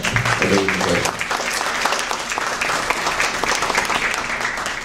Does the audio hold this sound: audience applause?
yes